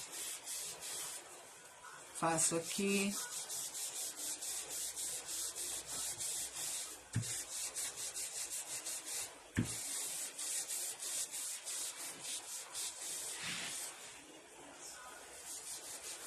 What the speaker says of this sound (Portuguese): Aonde eu lixei, eu posso vir com o meu lenço umedecido e forçar aqui na limpeza